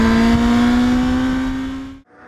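A Honda CBR 650F motorcycle on a race circuit during a riding course, heard as a loud, sustained high-revving engine drone that holds steady, then cuts off abruptly near the end.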